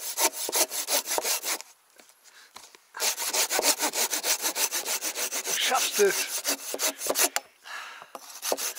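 A cheap Aldi handsaw cuts through wood at a bushcraft campsite with fast, rhythmic back-and-forth strokes, pausing twice before resuming steadily. A voice briefly speaks amid the sawing.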